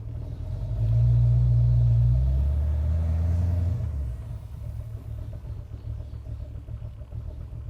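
A V8-swapped Mazda Miata runs with a deep, loud rumbling drone that holds strong for a few seconds, then drops to a quieter, rougher idle.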